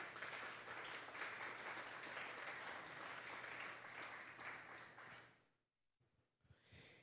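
A church congregation gives strong applause during a Sunday service, dense sustained clapping that fills the room for about five seconds before fading out, leaving a few scattered sounds.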